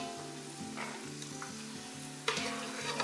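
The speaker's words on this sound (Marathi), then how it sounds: "आता काजू आपले फ्राय झाले" Cashews fry in hot oil with a soft, even bubbling sizzle that swells into a brighter hiss near the end, close and quiet, no talk.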